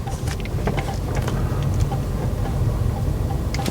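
A car's engine is held at full throttle while the vehicle refuses to move, producing a steady, loud low rumble with scattered knocks and clicks over the whole stretch.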